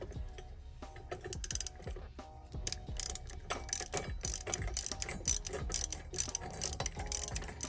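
A ratchet with a 17mm socket and extension tightens a differential brace bolt on a Nissan 350z, giving close, busy bursts of metallic clicking in short repeated strokes with brief pauses.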